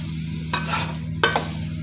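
Minced meat (qeema) for a green-chilli dish sizzles in a pan under a steady low hiss, with two distinct bursts of a spoon scraping and stirring it.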